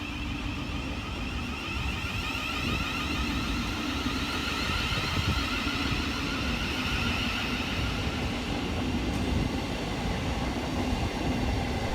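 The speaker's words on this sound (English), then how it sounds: "Next train out to depart is 700-136, working the 1457 Southern and Thameslink service from Three Bridges through to Bedford." A Class 700 electric Thameslink passenger train departing Purley, South London, hums steadily with a high electric whine and rumbling wheels, running continuously and fairly close throughout.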